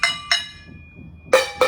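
A metal can is struck four times with a drumstick, close up, in two pairs with a pause between them. Each hit gives a bright, ringing, gong-like clang.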